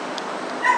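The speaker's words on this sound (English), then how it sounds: "those dogs are so fucking noisy" Dogs bark and yip nearby during an evening walk under a rainbow, short sharp calls against steady outdoor background, growing a little louder toward the end.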